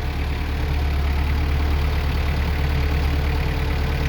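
Tractor engine idling steadily while its curled-down bucket pushes snow, a continuous low droning rumble with constant loudness throughout and no talk.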